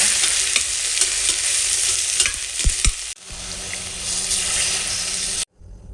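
Broccoli and other vegetables stirred and frying in ghee in a pan for a garlic-free vegetable palav, a loud steady sizzle with scraping stirs and a few clinks, cutting off abruptly near the end.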